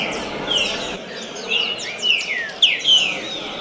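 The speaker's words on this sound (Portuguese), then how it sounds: "Nós temos aqui passarinho muito bom, o Flip da região nossa." A captive songbird sings in short bright chirps and whistled phrases, several sharp notes spaced irregularly over a steady hiss of background noise, fairly close and clear.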